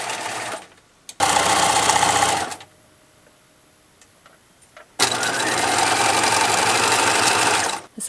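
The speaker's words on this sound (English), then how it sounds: "Now it is time to use our zigzag stitch and sew down the hem." A sewing machine runs a zigzag stitch along a blanket hem in two long, steady bursts with a pause between them, loud and close, with no talk.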